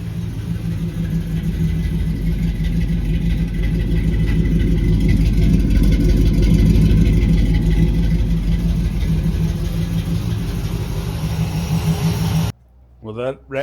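A 1968 Chevelle engine, freshly flushed with an oil change and a new K&N filter, idles in a smooth, steady low rumble that holds for over ten seconds, then cuts off abruptly near the end.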